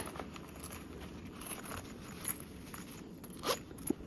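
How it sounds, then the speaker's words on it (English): Zipper tabs being pushed out on a small vinyl Drac Pack Mini bag, giving soft, close crinkly rustling with a few brief sharper clicks and scrapes, no talking. "And then you can push out those zipper tabs."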